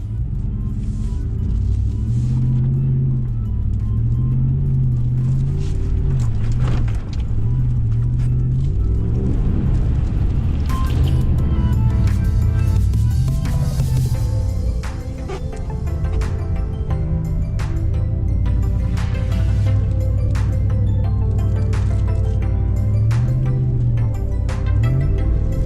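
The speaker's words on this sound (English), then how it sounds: "Oh gosh, she bogged down there. I thought the motor was gonna die." Four-wheel-drive Jeep bogging down while crawling through a big mud hole, the engine droning low and laboring with uneven revs as it nearly stalls, loud and close throughout.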